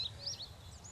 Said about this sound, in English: this freaking bird is just going nuts outside now. He's just like squawking a squawk.